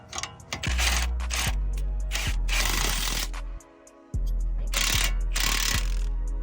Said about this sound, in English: Now we'll get our wrench and our impact, and we'll fasten these ones down.